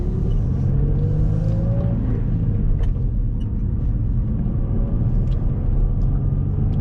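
Steady engine rumble from an Infiniti G35 on the move, heard from inside the cabin as a continuous low drone with road noise, even in level throughout, no talk.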